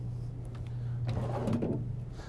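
A drawer in a 2012 Newmar Essex 4544 motorhome slides along its runners with a soft rumbling scrape, fairly close, over a steady low hum and no talking.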